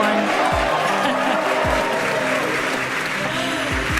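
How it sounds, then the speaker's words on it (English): An excited crowd in Hawthorne cheers and applauds during a SpaceX Crew-10 launch broadcast, sustained loud clapping and shouts under a commentator's voice and low tonal audio. "an extremely excited crowd here in Hawthorne"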